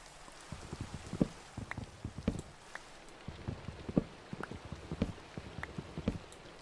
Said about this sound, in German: Dritten Tag Regen.